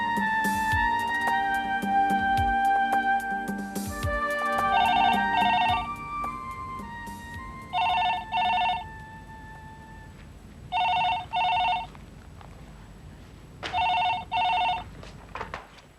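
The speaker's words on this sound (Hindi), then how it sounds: "किसका फोन है शिवानी?" A telephone rings indoors in a household scene, several paired electronic ring bursts repeating at regular intervals after a stretch of louder music-like tones.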